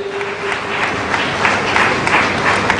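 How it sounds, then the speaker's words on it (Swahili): Audience applause at a Press Freedom Day ceremony held in a hall in Tanzania, steady broadband clapping filling the room throughout, with a faint tone at the start. "Naomba tuongeze makofi tafadhali ya pamoja."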